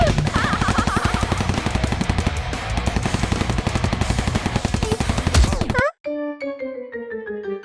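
Rapid cartoon gunfire aimed at targets at a military school, a loud dense burst of automatic shots for several seconds, then a sudden cut to bright tonal cartoon music.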